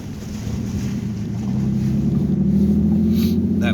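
A vehicle drives through water flooding a road, a steady low rumble of engine and sloshing water that grows louder over a few seconds, with wind noise on the microphone.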